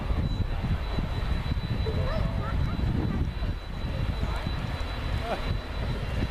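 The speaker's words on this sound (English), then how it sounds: "Coming in for a low approach, the 216 Squadron, Lockheed Tristar." A 216 Squadron Lockheed TriStar three-engine jet airliner roars steadily overhead on a low approach at the 2013 RIAT airshow, RAF Fairford, its broad engine rumble filling the whole stretch without letup.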